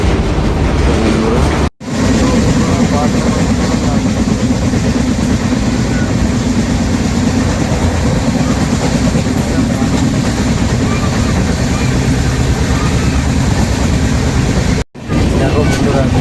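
The Chennai Mail passenger train runs with a steady, loud rumble that fills the whole stretch, broken by two brief dropouts, while voices are faintly present underneath.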